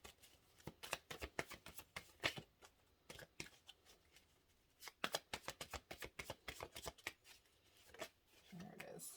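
Tarot cards are shuffled and drawn in a series of quick, crisp riffles and flicks, close and fairly faint, with a brief pause midway.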